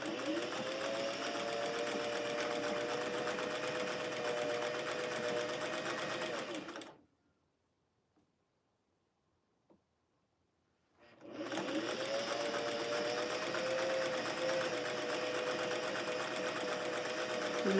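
A sewing machine stitching a flannel rag quilt at a slow pace, a steady close mechanical whir that stops for a few seconds of near silence and then starts again.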